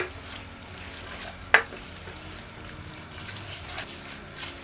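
Mutton keema cooking with masala, frying at a steady low sizzle while being stirred, with one sharp clink partway through.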